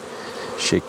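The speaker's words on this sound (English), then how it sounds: "I'm going to shake these bees off because there's no cells on here anymore" A close, dense buzzing of many honeybees being shaken off a hive frame, with a brief louder burst near the end, with no one talking.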